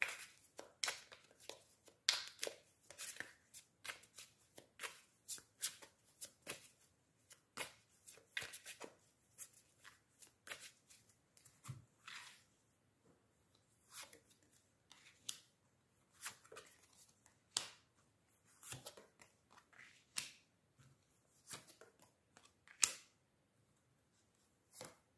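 Oracle cards shuffled by hand for a tarot-style reading, giving repeated short crisp riffling and slapping bursts in an irregular rhythm, close and fairly quiet, with no talking.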